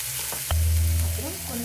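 Onions and tomatoes sauté in a pan for a vendakka aracha kulambu, with a soft steady sizzle, a few stirring scrapes and a low hum beneath, and no talking.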